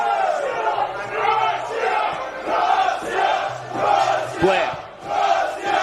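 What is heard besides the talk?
football crowd cheering and roaring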